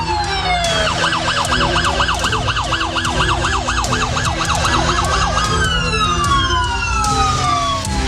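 An ambulance siren wails loud and near, cycling quickly up and down, then sweeps into longer falling tones over road noise as traffic horns sound around it on a West Bank road.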